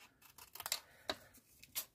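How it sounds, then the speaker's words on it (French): Several quick, crisp snips of scissors cutting folded paper for a junk journal, spaced irregularly, close by and fairly faint in a quiet room. "Je vais prendre ma paire de ciseaux"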